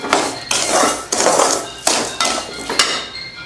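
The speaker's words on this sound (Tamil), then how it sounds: "பால் ஊற்றி மிக்ஸ் பண்ணியாச்சு." A spoon stirs rava laddu mixture in a metal bowl after warm milk is poured in, with steady scraping broken by sharp clanks against the bowl at uneven intervals, loud and near with no talking.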